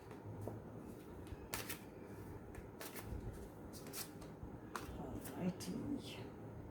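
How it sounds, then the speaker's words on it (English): Tarot cards shuffled and drawn by hand, soft riffling and papery slaps in several short bursts at close range under a quiet room hum. "Let's draw two more cards."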